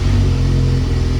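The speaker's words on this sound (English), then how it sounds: "Now start the Bronco regularly" The 2.3L engine of a Ford Bronco runs steadily right after starting, a loud, close, continuous low rumble with no voices.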